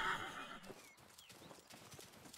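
A horse in the video game Rustler whinnies briefly at the start, followed by a quick run of light hoof clip-clops, fairly faint and synthetic-sounding.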